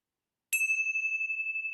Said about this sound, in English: let's close our time together with the ringing of the bell.